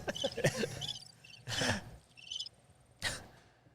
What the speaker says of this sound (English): The crickets. I knew I was going to get the crickets.